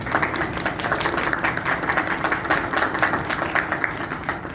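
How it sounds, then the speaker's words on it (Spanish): An audience at a cultural journalism forum in Guadalajara claps steadily for a guest, a dense, even applause that holds at a constant level from start to finish. "les brindo un aplauso por estar aquí"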